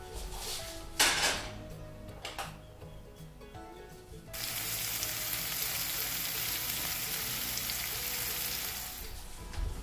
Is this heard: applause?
no